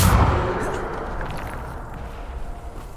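Bombarda spell explosion in the Hogwarts Legacy video game: a loud, deep boom that hits at once and then rolls out into a long, fading rumble.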